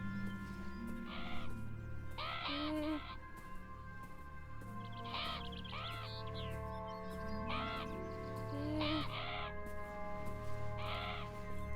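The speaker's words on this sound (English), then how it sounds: "Back, birds." Crows caw in the video game Beyond Eyes, several harsh calls in short clusters spread across the clip over a soft steady music bed, with no talk.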